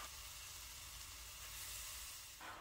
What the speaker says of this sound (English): Next, we shall be adding in the washed mutton.